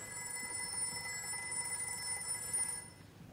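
A telephone rings steadily and fairly loudly, a continuous electronic bell tone sustained for about three seconds before cutting off, with no voices over it.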